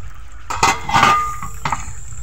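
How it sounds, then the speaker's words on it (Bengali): A metal lid lifts off a cooking pan of simmering spotted snakehead fish curry, giving a few clinks and scrapes in a quiet kitchen, the loudest bursts near the middle and a lighter clink after. "10 মিনিট পরে ঢাকনা খোলা হচ্ছে।"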